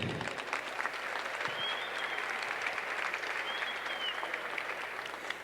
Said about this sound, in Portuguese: queria pedir uma salva de palmas para ele